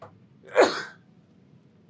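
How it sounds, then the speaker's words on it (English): A single quick sneeze bursts out close to the microphone, a short breathy explosion that fades into a quiet background hum. "I might sneeze."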